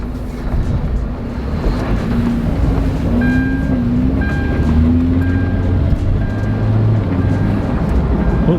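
An abandoned Hyundai Genesis car driving on a noisy, failing rear tire, a steady loud rumbling drone with a wavering engine tone and faint intermittent whine, no talk.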